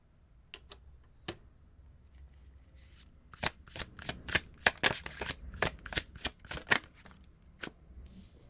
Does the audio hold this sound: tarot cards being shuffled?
yes